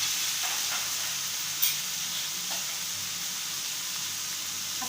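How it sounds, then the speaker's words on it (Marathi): Eggplant curry sautéing in an open pan, a continuous close hiss of frying with one brief clink of a utensil and faint stirring. "परतून घेऊया"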